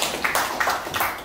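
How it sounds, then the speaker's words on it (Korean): A small audience at a Korean gathering claps briefly: a short burst of close, loud handclaps in a few uneven pulses, with no talk over it. "박수 한번 쳐주십시오"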